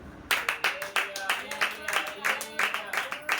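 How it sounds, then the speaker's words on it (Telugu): A church congregation claps hands together during a sermon: a steady run of sharp, rhythmic claps, fairly close and even in loudness, with no voices over them. "చప్పట్లో కొట్టాలి"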